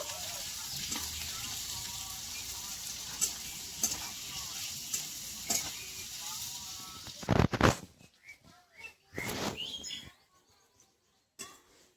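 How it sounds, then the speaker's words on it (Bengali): Onion slices frying in oil in a kadai for beresta, a faint steady sizzle with stirring clicks for several seconds, then louder clattering handling noises and quieter gaps, and a bird chirping in the background. "এবার আমি বেরেস্তাটা ভেজে নেব।"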